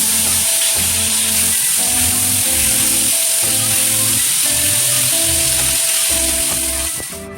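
Fresh plantain slices sizzling and frying in a pan over medium heat, a steady continuous crackle and hiss of hot oil close up, running evenly throughout with no talking.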